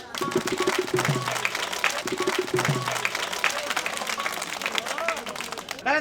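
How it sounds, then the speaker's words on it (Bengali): Clapping from an audience at a magic show in a Bangla drama, a busy patter of many hands mixed with crowd voices and some talk, fairly loud and continuous. "সবাই তালি দেন বড় ভাই"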